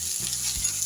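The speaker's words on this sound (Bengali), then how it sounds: "দেওয়ার পর এটাকে একটু নাড়াচাড়া করে ভাজা ভাজা করে নেবো।" Capsicum and chopped green chillies are stir-fried in a pan for an egg curry, making a loud, close, continuous sizzle with stirring scrapes in a short burst and no talking.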